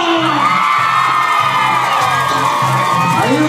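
A crowd at a 2015 PRI campaign launch rally in Aquila cheers, whoops and shouts in rapid overlapping bursts, loud and close, with high yells standing out above the roar.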